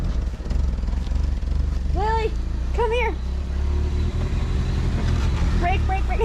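A 1983 Toyota Corolla wagon with a manual transmission drives along with a steady engine drone throughout, while a few short rising and falling tonal squeals cut through partway along and again near the end.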